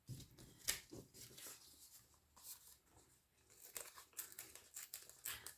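Sheets of craft paper from a Ruby and Pearl kit, used on a shabby-chic journal, are crinkled and shuffled close by in several short bursts with brief pauses between them, and no one speaks.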